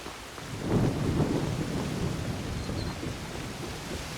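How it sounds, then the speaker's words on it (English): Thunder rumbles and rain pours steadily during a storm in the video game Assassin's Creed Shadows, with a loud low roll building near the start and then settling into a continuous downpour. "Stormy."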